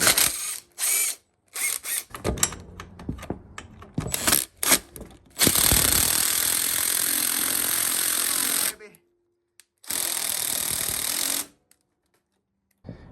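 Power-tool bursts work a headlight bolt on a weathered ATV, with long loud whirring runs, short stop-start buzzes and sharp clicks between, close by, until the bolt snaps off.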